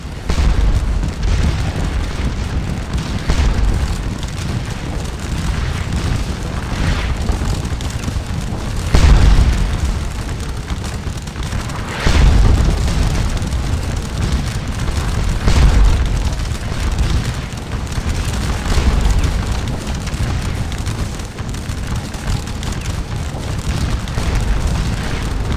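Artillery fire in Scourge of War: Waterloo booms again and again, heavy deep thuds recurring every few seconds over a continuous rumbling battlefield roar, loud and sustained with no voices.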